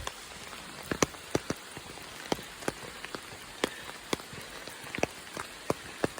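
Steady rain patters on a surface throughout an early-morning dog walk, with sharp, scattered drops striking nearby at irregular intervals over a continuous soft hiss.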